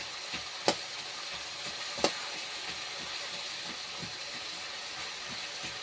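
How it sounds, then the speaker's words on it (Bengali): A fish head is pressed and mixed into fried spice paste in a pan. A steady sizzle runs throughout, and a couple of sharp spatula scrapes and knocks stand out against it. "দিয়ে ভালো করে মাছের মাথাটা এর সঙ্গে আমি মিশিয়ে নেব"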